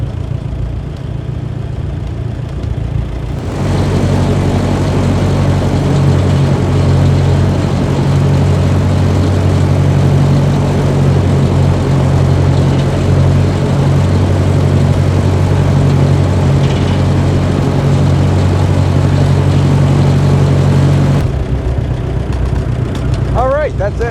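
A 1955 Ferguson 35 tractor engine idles steadily in neutral, a low, even rumble that holds for most of the stretch before cutting out, with a faint murmur of background voices at times.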